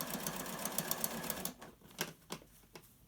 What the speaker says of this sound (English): Rolling out, holding down, stitching close to the edge.